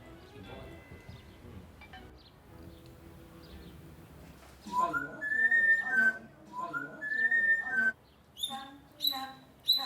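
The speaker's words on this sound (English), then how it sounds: "the parrot starts whistling" A pet parrot whistles clear, rising and falling tonal phrases in short bursts, growing louder after a quieter stretch with faint background sounds.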